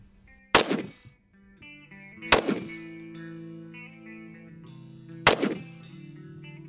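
Three loud, sharp gunshots from an AK-47 fired into a medicine ball outdoors, evenly spaced about two seconds apart, each with a ringing tail.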